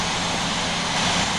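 An American Airlines DC-10 jet airliner readying for a Chicago to Los Angeles flight gives off a steady, loud broadband engine roar that holds constant with no talk.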